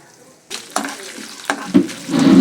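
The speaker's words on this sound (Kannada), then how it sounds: "ಲವಂಗ ಇಷ್ಟು ಹಾಕೊಂಡಿದ್ದೀನಿ ಲೈಟ್ ಲೈಟಾಗಿ ಫ್ರೈ ಮಾಡ್ಕೋತೀನಿ" Cloves and chickpeas fry lightly in a pan, starting from silence, then bursts of sizzle with sharp stirring scrapes that build into a louder, steady crackle.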